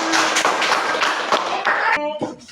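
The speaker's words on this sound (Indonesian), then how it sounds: "Kasih tepuk tangan." Classroom applause from a grade 5 class, a quick burst of many hands clapping up close that cuts off as a voice starts talking.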